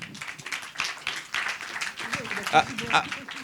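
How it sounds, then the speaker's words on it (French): Audience applause at a public jury deliberation of a film festival, a steady wash of many hands clapping throughout, with people talking over it. "Moi, je voudrais qu'on les applaudisse d'abord"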